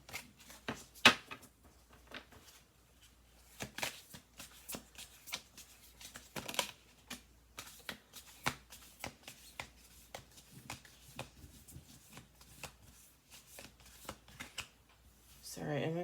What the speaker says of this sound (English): we're going to do 2 more shuffles